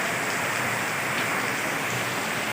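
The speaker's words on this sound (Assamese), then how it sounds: "বৰষুণ দিছে বা আধা ঘণ্টামান হৈ এৰাই নাই" Heavy rain pours steadily at a village fair in Assam, a dense, continuous hiss of drops on surfaces, loud and unbroken, with no voices and a brief knock at the very end.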